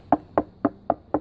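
Five evenly spaced knocks on the wooden side of a beehive nuc box, sharp and close, with no other sound between them.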